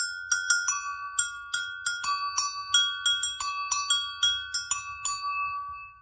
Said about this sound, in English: we can use our other hand with the wooden mallet to play the bells